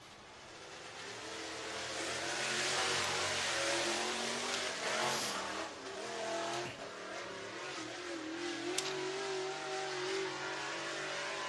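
Race cars circle a track at Southern Raceway in Milton, Florida, during hot lap qualifying, their engines droning and revving at a distance with a steady, overlapping roar across the whole stretch.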